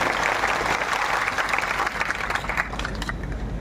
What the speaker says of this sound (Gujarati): ત્યારે એકવાર જોરદાર તાળીઓ પાડીએ.